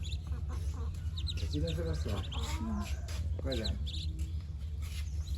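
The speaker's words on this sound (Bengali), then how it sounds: "এই দেখেন হাঁসের বাচ্চাগুলা" High, thin peeping from several ducklings rises over a steady low hum, with a person talking nearby at times.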